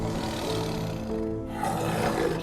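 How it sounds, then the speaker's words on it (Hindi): A cartoon lion roars in a horror-comedy animated jungle scene, a single sustained, loud, rumbling roar that swells and holds for a couple of seconds with no talk over it. "तभी जंगल में से शेर की दहाड़ने की आवाजें आने लगी।"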